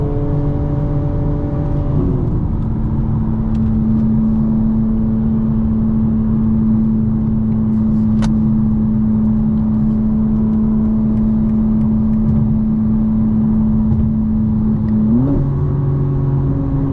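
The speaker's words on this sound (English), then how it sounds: "road noise is pretty good for these tires" Steady low road rumble inside a moving 2025 BMW M4 Competition xDrive, with a continuous engine drone that shifts pitch twice.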